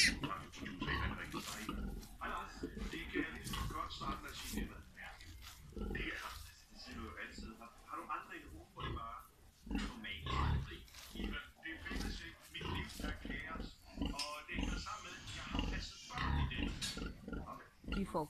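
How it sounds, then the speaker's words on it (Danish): A sow that has just farrowed and roughly twenty newborn piglets in a conventional Danish pig barn, producing frequent grunts and squeals close by while someone talks over them. "Og her ser vi så en so, som lige har faret. Og der går en små 20 grise her."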